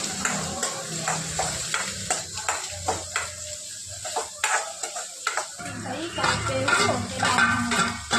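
Cumin and onion frying and being stirred in a pan while making aloo 65, with steady sizzling under repeated scrapes and clinks of a utensil against the pan, close and moderately loud throughout.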